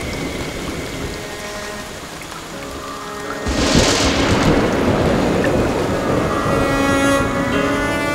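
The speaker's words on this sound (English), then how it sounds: "Rain falls in vast quantities in the forest, with millions of litres pouring down each day." Heavy rainforest rain pours steadily, then a deep rumble of thunder rolls in and the downpour grows denser and louder.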